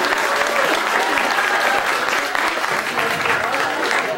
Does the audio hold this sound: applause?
yes